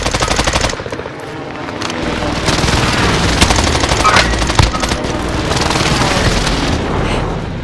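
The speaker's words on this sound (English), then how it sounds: "Allied precision airstrike incoming." Explosions from an allied precision airstrike in a combat video game, heavy rolling booms mixed with dense rattling gunfire, loud and sustained throughout.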